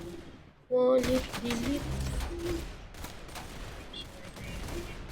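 Shotgun fire in an online shooter game, a sudden loud blast followed by rattling gunfire and game noise, with a voice talking over the action.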